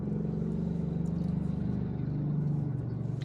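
A small car rolls slowly past construction works in Vientiane, its low, even engine hum steady and fairly close for a few seconds with no talking.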